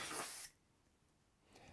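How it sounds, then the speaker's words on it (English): A short burst of compressed air from a spray duster on JVC CRT monitor circuit boards hisses loudly, stops for about a second, then a second spray starts up near the end. "I then used a spray duster on the circuit boards."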